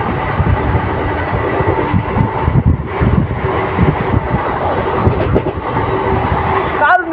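A moving train heard from inside a carriage on a cloudy, cold, drizzly day, with a constant loud rumble and rushing wind noise buffeting the microphone, and a voice talking faintly underneath.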